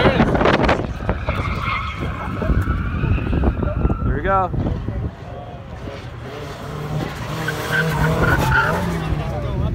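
A turbocharged Nissan S14 skids and drifts at a car event with a rising tire squeal, engine noise throughout, and people talking and calling out over it.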